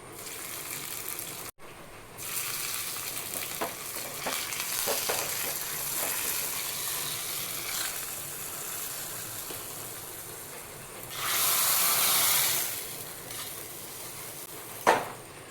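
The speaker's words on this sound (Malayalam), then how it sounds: "നമുക്ക് ചെറിയുള്ളി അരിഞ്ഞതിട്ട് കൊടുക്കാം കേട്ടോ" Chopped shallots sizzle in coconut oil in a pan, a tempering for a coconut-based anchovy fish curry, giving a steady frying hiss that swells louder near the end, with faint stirring clinks and no talking.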